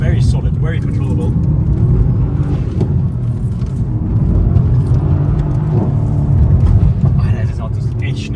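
A Mercedes C63 AMG, about ten years old, driven fast, with a loud steady engine and road rumble from inside the cabin while people talk over it.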